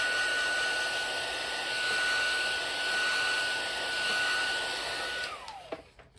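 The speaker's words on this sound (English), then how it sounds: "I'm going to give it a very quick blast with my heat tool" A heat tool blows hot air over a handmade vintage card in a steady, loud whoosh with a fixed whine that holds for several seconds, then winds down and stops with a falling tone and a few clicks.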